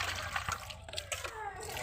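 Fish pieces are rinsed under water, giving a close, steady splashing and trickling sound with faint voices mixed in.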